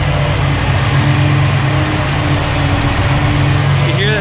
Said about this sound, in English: the fans are spinning